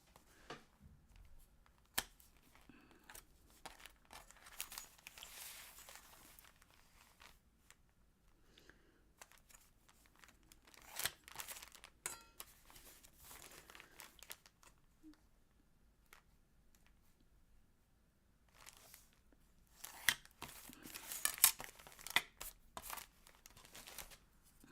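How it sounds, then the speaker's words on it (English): Old scissors snip quietly at something, the faint crisp cuts coming in scattered bursts with light crinkling and rustling between them over a long quiet stretch. "I finally replaced these scissors."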